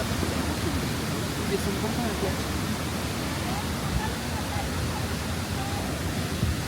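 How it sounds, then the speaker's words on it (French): A waterfall on La Réunion pours straight down, making a steady, dense roar of rushing water that holds evenly throughout, with a person briefly speaking over it. "il y a la cascade qui tombe direct en bas"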